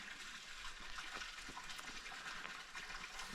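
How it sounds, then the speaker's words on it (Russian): Rushing water from a stream beside the Lycian Way hiking trail near Gökçeören, a steady broadband hiss that holds at a constant level throughout, with no voices over it. "Близко не подхожу, потому что там вода шумит,"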